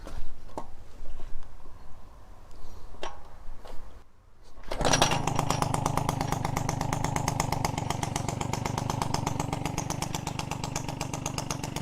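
A Peugeot 103 RCX moped with a new Dellorto SHA 15/15 carburetor kicks into life after a quiet stretch with faint clicks, then settles into a steady, close, buzzing two-stroke idle that runs on evenly with no talk.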